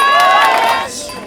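A crowd at a French street rally cheers and claps, a loud burst of shouting voices that swells and then fades over a second or so.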